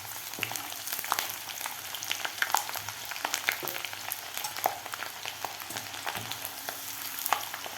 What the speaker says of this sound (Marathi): लसूण आणि शेंगदाणे आपल्याला व्यवस्थित तळून घ्यायचे आहेत।